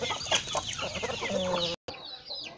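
Chickens of a Chinese breed cluck and murmur nearby in a coop with new chicks, a steady busy stream of calls that stops briefly, then resumes more thinly.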